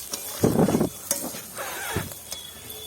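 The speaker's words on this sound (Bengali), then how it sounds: "জিরে বাটাটা দিয়ে দিচ্ছি। সব কিছু একসঙ্গে আমি ভালো করে কষিয়ে নেব।" Cumin paste and spices are sautéed for a chicken curry, with a few bursts of sizzling and spoon scraping against the pan, close and moderately loud, fading to a soft background hiss.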